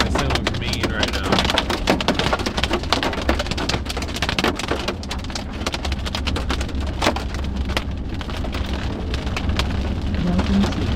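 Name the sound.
hail and rain on a storm-chasing vehicle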